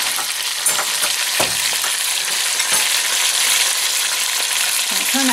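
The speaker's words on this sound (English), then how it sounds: "So while that's browning" Pot roast beef sears in a hot pan with a steady, close sizzle and spitting, with a few scrapes and stirs breaking through; nobody speaks.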